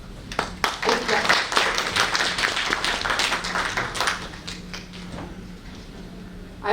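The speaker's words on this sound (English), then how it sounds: "Please give him a big clap." An audience at a memorial lecture applauds as the Indian ambassador to the Netherlands is welcomed, a dense wash of clapping that gradually thins out, with a voice speaking over it.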